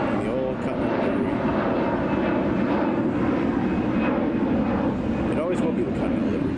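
An airliner in old Continental livery rumbles steadily at Chicago O'Hare, a broad continuous engine roar that holds level throughout, with a voice talking over it.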